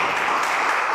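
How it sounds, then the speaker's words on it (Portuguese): A church congregation applauds together, a steady dense wash of clapping that fills the whole moment with no pause. "Vamos aplaudir o Senhor"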